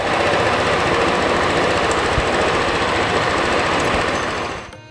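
Tuscany 150 motorcycle engine idling steadily at close range, a dense rapid knocking chatter running without a break before cutting off abruptly near the end.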